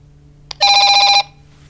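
A telephone bell rings once in a short, loud, close burst with a rapid trilling rattle, preceded by a tiny click, over a faint steady hum and otherwise quiet background.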